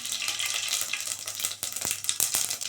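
Mustard seeds and fenugreek spluttering in hot oil in a pan while cooking village-style Tamil sambar with shallots, a dense continuous crackle with sharp pops standing out, close and fairly loud, no voices.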